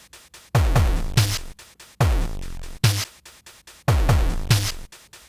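Synthesized drum beat built from three layered samples in Arturia Pigments: punchy kicks with falling pitch sweeps, bright snare hits and tight ticking hats in a steady repeating pattern, close and loud with no voices.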